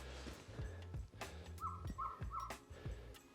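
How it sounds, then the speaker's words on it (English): Three short dog barks in quick succession, fairly distant, over a low rumble and occasional clatter, outdoors in a snowy maple sugar bush. "You probably can hear Stella in the background, they're barking away"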